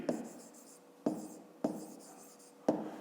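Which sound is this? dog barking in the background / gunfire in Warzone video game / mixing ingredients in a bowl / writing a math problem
writing a math problem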